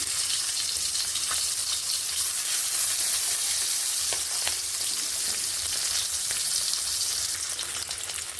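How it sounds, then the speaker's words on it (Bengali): Lata fish fry in hot oil, giving a loud continuous crackling sizzle with scattered sharp pops and spatters that holds for several seconds, with no talking. "মাছগুলোকে ভেজে নেব"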